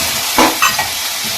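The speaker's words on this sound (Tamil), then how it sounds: "இஞ்சியும் வெள்ளை பூண்டு போட்டு நல்லா வணக்கிடுங்க" Shallots, tomato, ginger and garlic sauté in a hot pan with a steady sizzle, broken by a few short stirring scrapes.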